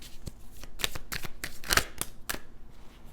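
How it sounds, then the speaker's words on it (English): Tarot cards are shuffled and drawn in a series of close, crisp riffling flicks and papery snaps, irregular in rhythm and fairly quiet, with no talking. "I'm going to get a couple of cards to clarify that."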